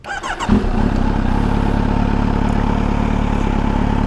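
A Kawasaki Z900 948cc motorcycle engine with an aftermarket Arol exhaust starts with a clatter, then settles into a loud, deep, steady idle with a throaty rumble that fills the whole recording.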